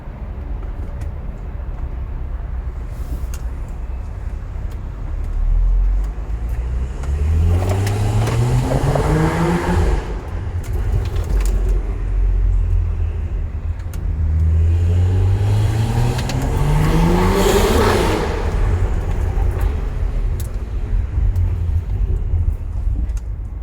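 A 2014 BMW 335i with a stage 2 tune rumbles from inside the car while driving, then accelerates hard twice with rising engine pulls through the gears, each easing back to a low cruise.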